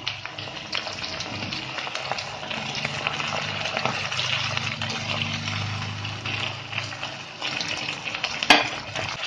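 A sauce with salt, a little water and soy sauce bubbles and sizzles in a pan, a constant dense hiss with one brief sharp clink near the end.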